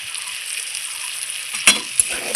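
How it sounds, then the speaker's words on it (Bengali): A paste of ground ginger, cumin and dried chilli sizzles softly in a pan, a steady frying hiss broken by a couple of sharp stirring clinks near the end, with no talk. "মশলাটা দিয়ে আবারও খুব সুন্দর করে আমি নেড়ে চেড়ে নিচ্ছি"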